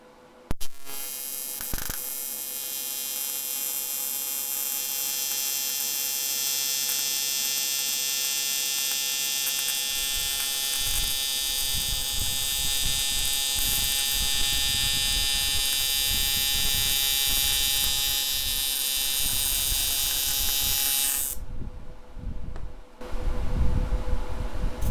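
A TIG welder on aluminum, tacking parts onto a small aluminum tank, gives a loud, steady high buzzing hiss with a constant hum that holds for about twenty seconds and then cuts off, followed by brief clatter.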